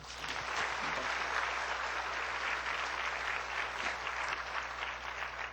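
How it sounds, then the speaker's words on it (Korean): A church congregation claps together during a sermon, a loud, dense and steady wave of applause from many people filling the hall for several seconds, with no talk over it. "그럼 박수 한번 쳐봐."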